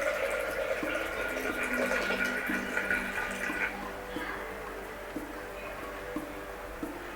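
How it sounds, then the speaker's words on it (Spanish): Water poured into a glass container, a steady hissing fill with a lower gurgle, fading slightly after the first few seconds and continuing quietly to the end. "Y ahora vas llenando el recipiente con agua, pero con mucho cuidado que no caiga agua dentro de la copa o del vaso."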